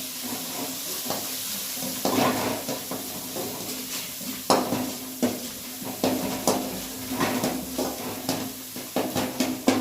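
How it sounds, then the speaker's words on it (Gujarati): Ground peanuts and fennel seeds are dry-roasted in a pan for undhiyu, with repeated scraping and stirring strokes of a spoon against metal over a faint background sizzle, close and irregular. "જે સિંગદાણા અને થોડી વરિયાળી મેં પીસી લીધી હતી એ એડ કરી દઈશું અને એને બરાબર સ્મેલ આવે ત્યાં સુધી શેકી લઈશું"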